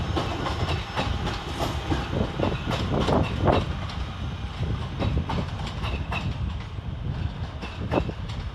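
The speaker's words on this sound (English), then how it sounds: "323232 departs with the 11:46 northern service to Manchester Piccadilly via Stockport." Northern train 323232 departing Crewe station for Manchester Piccadilly, a loud steady rumble with rhythmic wheel clatter and occasional clunks as it pulls away close by.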